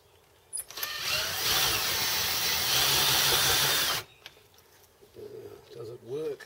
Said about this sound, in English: drive the drill, obviously with the drill machine, but push it down with the spindle housing